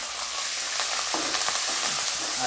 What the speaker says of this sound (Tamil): இப்போ ஒரு பஞ்சு கறிவேப்பிலை போட்டுக்கிறோம்.